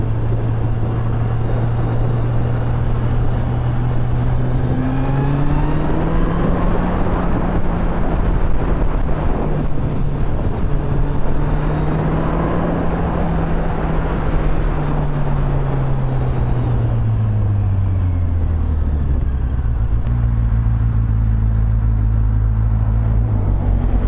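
A 2016 Kawasaki Z800 motorcycle engine drones steadily while riding on country lanes, its pitch climbing and falling through gear changes and rev rises, loud and close with wind rush and no talking.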